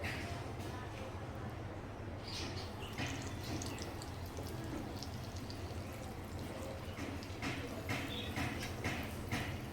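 Dahi vada batter, beaten well and made without soda, dropped by hand into hot oil and frying with a steady, close crackling sizzle and scattered pops throughout.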